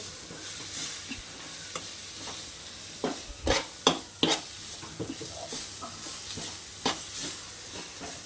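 A spoon stirs chili powder into gobi fried rice in a sizzling pan, giving a steady fry hiss with scraping strokes and several sharper knocks against the pan near the middle, and no one talks.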